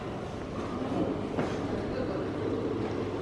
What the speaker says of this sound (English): Show you how a steam engine works.